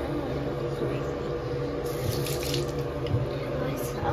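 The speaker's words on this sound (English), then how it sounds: "so I'm going to wash my face." Tap water runs steadily into a bathroom sink for face washing, a constant close hiss and splash throughout, with no talking heard.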